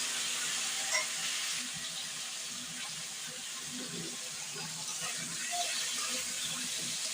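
Potatoes, pointed gourd and stems fry together in a pan, giving a steady, hissing sizzle with soft stirring scrapes and faint clinks, close and moderately quiet.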